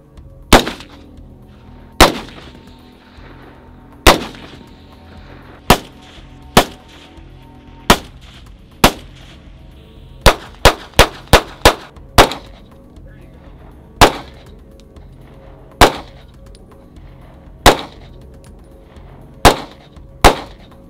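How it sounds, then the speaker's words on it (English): Guns including a .50 caliber fire at a range, sending out sharp, loud single shots at irregular intervals, each with a short ringing tail, plus a quick cluster of five rapid shots partway through. "Well, Shane, we just did a lot of shooting."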